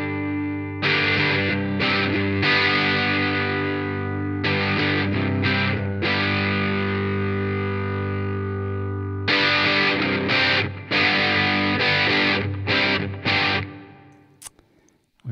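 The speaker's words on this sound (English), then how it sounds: "it adds distortion, but it also adds high end and a bit of high mid range." Electric guitar played through a Harley Benton British Sound Truetone distortion pedal, ringing out loud, sustained overdriven chords broken by short choppy stabs, then fading to near silence at the end.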